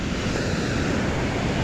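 A continuous roar of surf on the Zambales coast, Philippines, waves breaking and churning steadily, loud and broad with wind rushing across the microphone.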